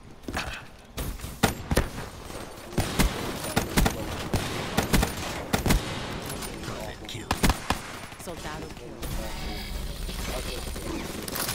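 Gunfire in Call of Duty: Black Ops III, a series of sharp, loud single shots and short bursts in an irregular rhythm, with a player talking between them.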